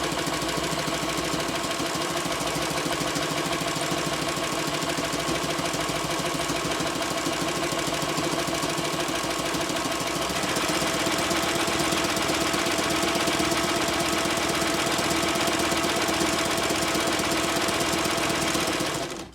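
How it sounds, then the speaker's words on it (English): A sewing machine stitches a long run of bias tape binding onto a fabric mask with a loud, continuous mechanical whir and a rapid needle rhythm. It runs alone with no talking and shifts slightly in tone partway through. "I'm gonna stitch this entire length of the bias tape binding close"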